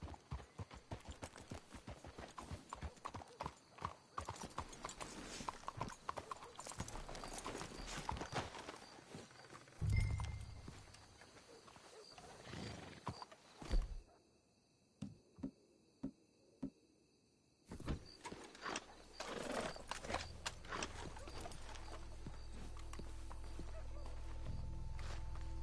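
Horses clip-clopping in the video game Red Dead Redemption, a steady run of hoof beats with a brief heavier thud midway and a low rumble building toward the end.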